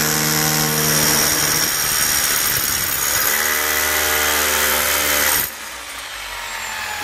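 Power drill boring a hole with a 24 mm drill bit, a loud, close, continuous motor whine with changing pitch as the bit cuts, then a sudden drop in level as the drilling stops, no voices.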